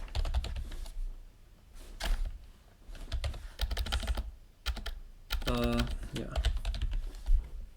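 Keystrokes on a computer keyboard come in several quick bursts as a username and password are entered, close and fairly loud, with brief speech between the bursts.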